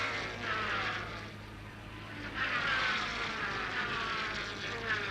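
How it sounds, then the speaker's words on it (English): V8 BRM racing cars roar around Lakeside circuit in 1966, a continuous engine drone rising and falling as cars pass at a distance, with a steady hum underneath and no talking. "The V8 BRMs make a wonderful sound at Lakeside"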